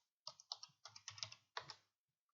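Computer keyboard keys typed in a short burst of clustered clicks, about a dozen quick strokes over two seconds while renaming an object in modelling software, close and fairly quiet with no voice.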